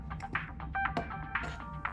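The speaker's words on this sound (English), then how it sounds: "Getting a phone call from complete silence." A telephone rings in a cartoon scene, a few short electronic trills with brief gaps, fairly close and clear over faint background sound.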